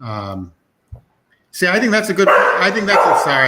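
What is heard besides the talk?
dog barking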